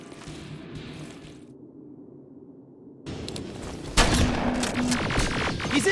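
Gunfire in the video game Terminator: Resistance, with a quieter stretch giving way to loud, dense bursts of shots and explosive noise that swell sharply toward the end, no talking.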